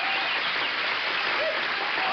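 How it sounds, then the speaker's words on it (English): Steady, dense audience applause for stunt performer Super Dave Osborne as he gets ready to climb into his car, a continuous wash of clapping at moderate level with no gaps. "Fine round of applause for Super Dave Osborne as he's getting ready to get into his car"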